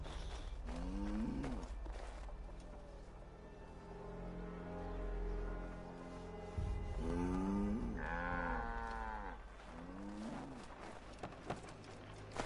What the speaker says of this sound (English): Okay, so we got some cows.